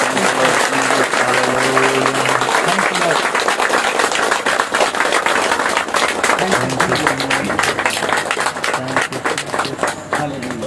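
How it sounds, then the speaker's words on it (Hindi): A church congregation claps hands together in worship, a dense continuous burst of applause-like clapping with voices and musical tones running underneath throughout. "आइए ताली बजाकर परमेश्वर को धन्यवाद।"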